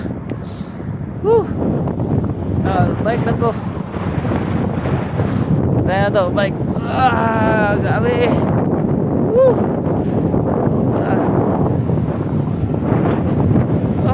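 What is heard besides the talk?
strong headwind while cycling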